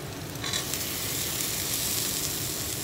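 Potatoes fry in a pan with a steady, close, dense sizzle and hiss that holds evenly throughout, and a light stirring scrape comes in early on.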